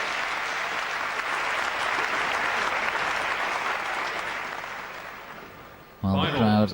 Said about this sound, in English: the crowd in raptures over this